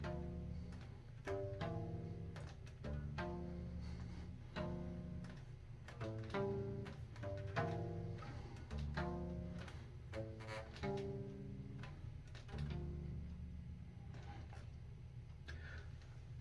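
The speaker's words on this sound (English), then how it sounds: "So your 1, 4, 5 in minor sounds like this." Bass guitar working through a minor one-four-five chord progression, plucked notes and chords ringing in a steady rhythm, close and clear with no speech.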